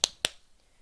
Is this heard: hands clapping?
yes